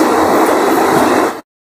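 Inside a night train on the Pancharatna to New Bongaigaon run, a loud, steady rumble of wheels and carriage noise fills the space as it enters Majhgaon station, then cuts off abruptly.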